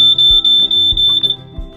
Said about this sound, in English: if you hear your propane detector occasionally beeping